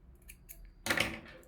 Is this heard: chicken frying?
no